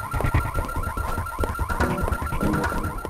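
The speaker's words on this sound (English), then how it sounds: "I can set up the car alarm, too." A car alarm in the Fighting Force 64 video game, loud and continuous with a steady electronic tone and a rapidly repeating warbling pulse, heard alone against game noise.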